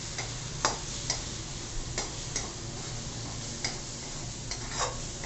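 Spices for palak paneer are stirred and sautéed in a pan, with a soft sizzle under repeated sharp clicks of a spoon against the pan, close and fairly quiet.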